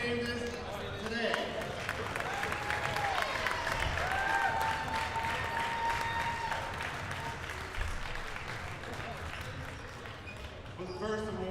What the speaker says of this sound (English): Let's give a round of applause to both teams for a great game today.